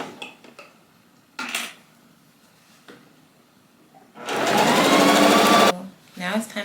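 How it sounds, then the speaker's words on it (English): A sewing machine stitches a puffer jacket in a close, loud whirring run of about a second and a half, with clinks and handling noises before it and a voice talking at the start and end. "sewing about an inch away from the edge"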